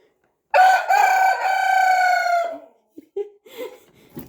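An upset rooster on a farm, riled by a turkey near its hens, lets out one loud, close crow lasting about two seconds, followed by a few short, softer clucks and grumbles.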